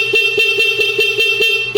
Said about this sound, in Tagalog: Pabira po ng stock horn.